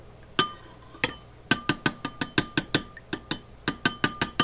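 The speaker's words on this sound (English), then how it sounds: "we're just going to stir this all together." Orange beef sauce ingredients, including chunky marmalade and teriyaki, are stirred together in a bowl. A utensil strikes the sides in a quick, fairly regular run of bright clinks, a few isolated taps first, then a steady rhythm.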